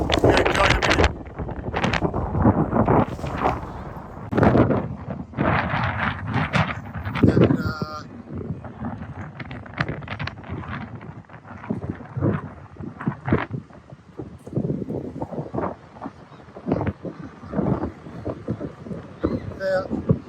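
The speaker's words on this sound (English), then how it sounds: "Very windy here." Strong gusts buffet the microphone in loud, irregular bursts at the Blackpool seafront at night, a continuous roaring wind with a voice talking intermittently underneath.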